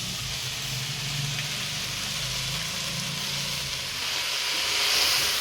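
Amaranth leaves fry in a pan with a steady, even hiss and sizzle that holds unbroken throughout, fairly faint and with no one speaking over it.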